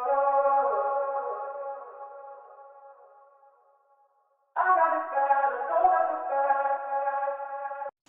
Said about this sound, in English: This is the vocal chop from Splice.